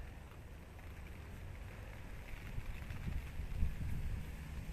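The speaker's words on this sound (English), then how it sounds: "We've got the wind and the rain all blowing in now, making it very uncomfortable." Storm Barra's wind and rain blow across the bank at a UK pike-fishing spot, a steady rushing hiss with gusty buffeting that swells toward the end, no voices.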